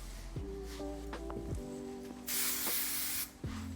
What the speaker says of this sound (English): We're just going to use a hairspray